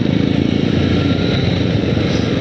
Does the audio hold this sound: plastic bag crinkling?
no